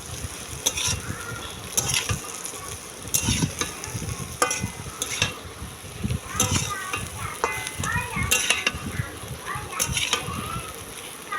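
Chow mein being stirred and fried in a pan over a stove, with scraping spatula strokes and steady sizzling, while voices and children's chatter carry on intermittently in the background.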